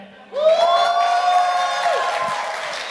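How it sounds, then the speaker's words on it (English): A crowd at a Chery Tiggo 4 Pro car launch bursts into loud cheering and whooping, with high rising shouts over a dense wash of clapping that holds to the end. "can I feel that clap?"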